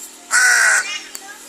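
A single crow gives one loud, harsh caw close by on a hillside farm, and a faint click follows in the quiet afterward.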